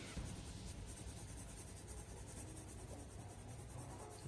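A pencil shades a small gradient on ordinary printer paper, giving a soft, continuous scratchy rub at close range, quiet and steady for a few seconds with no talking.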